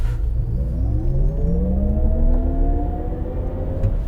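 A 2025 Cadillac Escalade IQ electric SUV launches hard, its electric motor whine climbing steadily in pitch over a continuous road and drivetrain rumble, loud and close from inside the cabin.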